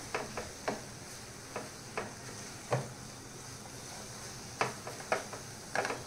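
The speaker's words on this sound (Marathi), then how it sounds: "आता आपली इथे बेरी टाकून झालेली, हे छान एकदा पुन्हा मिक्स करून घ्यायचं आपल्याला" A spoon scrapes and stirs a mixture of ghee residue (beri) in a pan. The scrapes come as soft, irregular strokes every half second or so over a steady low sizzle, with no voice.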